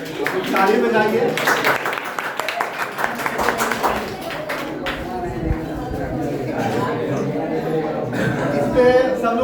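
Audience at a panchayat student award ceremony breaks into scattered clapping beneath loud talking and crowd chatter, bursts of claps rising and fading over several seconds.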